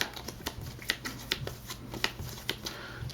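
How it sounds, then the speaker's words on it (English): A deck of board game cards being shuffled by hand, a quick run of soft riffling flicks and taps close up, with no voices over it. "Shuffle the AI deck."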